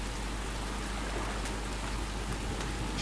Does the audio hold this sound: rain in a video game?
yes